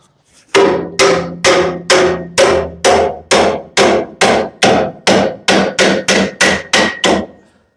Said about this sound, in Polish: to straszny hałas jest, jak się młotekiem wali po metalu